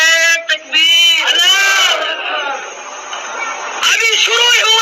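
A large crowd answers a takbir call at an Islamic religious gathering with a loud, sustained shouted chant that follows a single leading voice and fades out before that voice returns.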